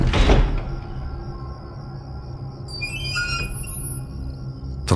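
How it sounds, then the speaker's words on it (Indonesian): A door opens and closes: a dull thud near the start, then a brief high squeak of the hinge partway through, against a quiet background. "terdengar suara pintu dibuka tutup."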